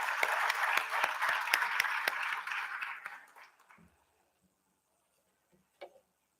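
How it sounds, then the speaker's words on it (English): Applause from the audience at a Kashmiri Pandit conclave, a fairly soft round of clapping with some distinct individual claps that fades out after about three seconds, followed by near silence and a brief thump. "So big round of applause for him."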